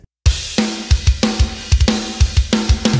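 A drum kit plays a steady groove through a British-curve EQ plugin: punchy kick and snare hits with bright cymbals, crisp and upfront after a short silence.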